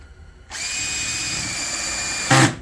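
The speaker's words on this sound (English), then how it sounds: "Now also on my drill, I have my clutch set to the very lowest setting" A cordless drill drives a screw into a wooden HiveIQ beehive super, one steady close whir of about two seconds that rises and strains briefly at the end before stopping, with no talking.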